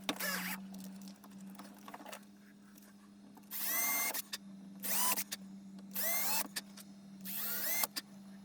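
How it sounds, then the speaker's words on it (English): A power drill whirs in several short bursts separated by pauses while drilling pilot holes, with a steady low hum running underneath throughout. "You don't have to drill these pilot holes if you don't want to."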